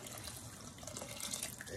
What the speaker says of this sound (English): Now let's get this chicken broth